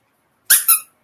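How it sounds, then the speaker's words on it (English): A squeaky dog toy gives two quick, sharp squeaks in close succession, loud and near, with silence before and after. "I got a squeaky. I got a squeaky."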